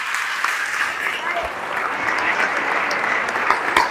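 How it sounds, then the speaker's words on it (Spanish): Steady, sustained clapping from a congregation at Sunday Mass, filling the whole stretch at an even level with a few louder claps near the end. "Y un último aplauso para nuestros niños."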